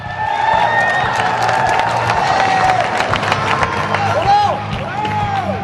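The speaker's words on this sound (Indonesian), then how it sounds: "Sekali lagi kita beri tepuk tangan yang paling meriah." Audience at a One Pride fight event applauds and cheers loudly and continuously after a three-round bout, with crowd shouts and whistles over the clapping.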